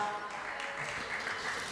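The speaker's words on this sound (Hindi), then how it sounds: "जोरदार ताली बजाइए।" Audience applause at a religious discourse: a dense, steady patter of clapping from a crowd, filling the short stretch evenly.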